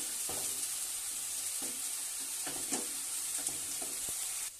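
Ginger, garlic and tomato paste frying with onion in a pot for biryani, giving a steady close hiss with several soft knocks and scrapes of stirring, no voices.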